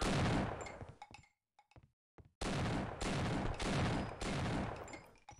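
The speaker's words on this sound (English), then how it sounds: "who's shooting at me? Who the hell is shooting?" Loud, dense automatic gunfire from the video game Half-Life: Opposing Force roars in a sustained burst, drops to a few scattered shots and a short silence, then resumes in long rapid volleys.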